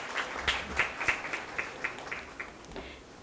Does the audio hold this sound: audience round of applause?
yes